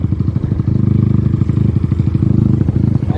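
A Honda Titan motorcycle fitted with a newly rebuilt engine runs on the road, its single cylinder thumping in a fast, rhythmic idle-to-cruise beat, loud and close with a slight mechanical clatter.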